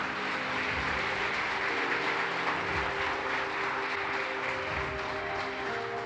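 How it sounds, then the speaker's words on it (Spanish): A church congregation at a sermon applauds in a continuous, even burst of clapping that holds steady for several seconds, fairly distant and without speech over it. "Dale un aplauso a la palabra de Dios."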